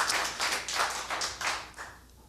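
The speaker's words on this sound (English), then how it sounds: "Let's give them a round of applause." Audience clapping at an Olio storytelling night, a brief round of hand claps with distinct bursts that quickly thin out and fade, moderately close without talking.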